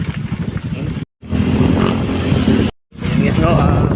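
A motorcycle engine rumbling loudly and close, a steady low drone cut by two brief silences, with voices over it.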